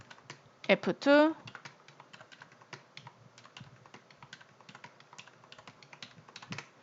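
Someone types on a computer keyboard while entering numbers into Excel cells, pressing F2 and Enter between entries; the clicks come close and irregular, with a brief vocal sound near the start.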